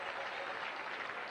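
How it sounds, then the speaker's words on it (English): Baseball fans at an Oakland A's home game against the Red Sox applauding a departing pitcher, a steady wash of distant crowd clapping heard at low level and unbroken for the moment. "Andujar acknowledging the applause he received from these fans here"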